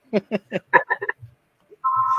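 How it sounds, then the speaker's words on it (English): A telephone rings for an incoming call, a steady electronic ring tone starting near the end, loud and close, after a run of short chirping tones and brief talk. "So, is that a phone call?"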